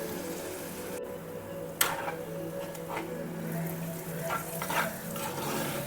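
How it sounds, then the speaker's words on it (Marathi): Jaggery and mango pulp being stirred together in a pan for modak filling, a soft steady scraping and faint sizzling with a few light clicks of the spoon against the pan, no voices. "गूळ आणि आमरस व्यवस्थित एकजीव करून घ्यायचे"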